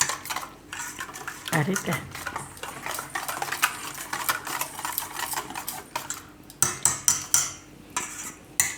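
A spoon scrapes and clinks around a bowl while a spiced turmeric marinade for tandoori cauliflower is mixed, making steady close-up clatter with sharper taps near the end and brief speech mixed in.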